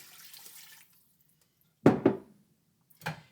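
Water is poured into a pot of chicken enchilada soup in a kitchen, heard as brief, close splashes: a short trickle, then two quick pours and a final splash.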